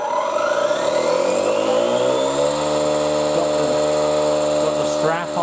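An electric pump inflates a Suzuki 1100G motorcycle tyre during a tyre change. Its close mechanical whine holds steady, then its pitch climbs and falls through a long, continuous run as the pump labours.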